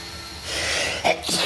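A single loud sneeze erupts after a short breathy inhale, close up, followed by a brief gasp.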